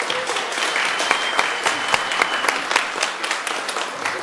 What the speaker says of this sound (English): Audience, let's give these girls a round of applause.